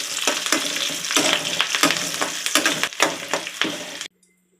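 Green chillies and curry leaves sizzle in a pan for kara pongal as they are stirred, with loud, uneven bursts of frying and scraping for about four seconds before an abrupt cut to silence.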